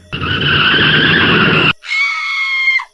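Car tires skidding hard as a woman steps in front of the vehicle, a loud sustained screech cutting off sharply, then a second, higher squeal that ends abruptly.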